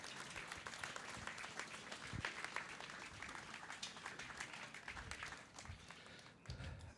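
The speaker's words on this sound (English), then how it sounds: "big round of applause for our rope pack team" A crowd at a trainee graduation ceremony applauds steadily, a dense patter of many hands clapping continuously for several seconds, heard from within the audience.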